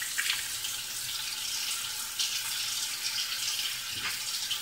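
Low-fat balsamic vinaigrette dressing is poured into a bowl, giving a steady, close liquid trickle and splash that runs unbroken for several seconds with no voices.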